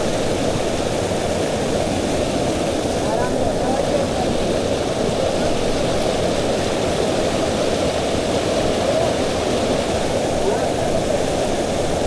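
Steady rushing water from a stream on a mountain trail in monsoon season, a continuous broadband wash filling the whole clip at close range with no clear breaks.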